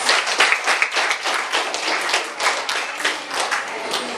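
An audience at a school debate event applauds the introduced judges, a dense burst of many hands clapping close and lively throughout.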